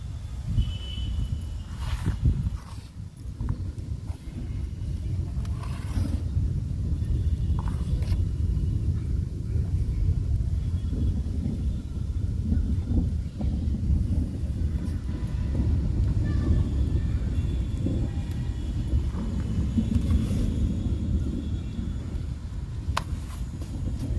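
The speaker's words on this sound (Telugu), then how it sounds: "మాకు వర్షం వచ్చేటట్టుందండి ఉరుములు ఉరుముతున్నాయి" Low, steady rumbling fills the whole stretch, a distant continuous roll with faint scattered clicks above it.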